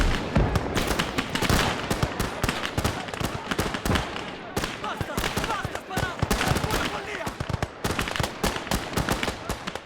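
Grenades going off in a video game battle as soldiers clear World War I trenches at the Isonzo, dense rapid bangs and crackling blasts alongside gunfire, loud and continuous throughout.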